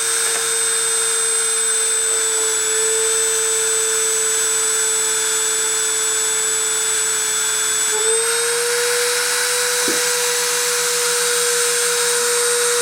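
A deposition machine runs throughout with a loud, steady motor whine and hum that shifts slightly in pitch partway through.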